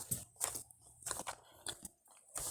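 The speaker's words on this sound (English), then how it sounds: "you're gonna be hearing a lot of chewing" Close, crunchy chewing of a cookie that tastes like cake, with repeated bites and mouth noises in an uneven rhythm and no talking.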